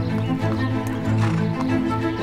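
Horse in an equestrian setting, heard close and loud with steady low rumbling and blowing that fill the whole short moment.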